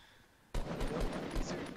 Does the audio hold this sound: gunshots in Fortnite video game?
yes